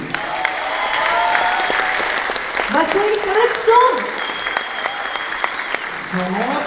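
Concert audience applause rolls steadily for a singer, a broad wash of clapping while an announcer's amplified voice calls out over it.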